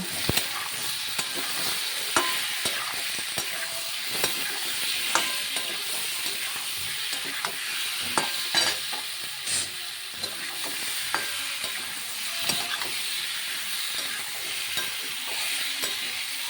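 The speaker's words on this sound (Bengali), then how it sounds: "তারপরে আবার সুন্দর করে ভালো করে নেড়ে চেড়ে কষিয়ে নেব।" A spatula scrapes steadily through snakehead fish and taro in a pan as salt and turmeric go in, with a constant soft sizzle and repeated sharp clinks of metal on the pan, close up and without voices.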